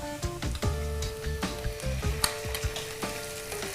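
Ginger garlic paste sizzles in a pan for a Nellore fish curry, a steady frying crackle broken by scraping stirs and clinks of a utensil against the metal, close and fairly loud.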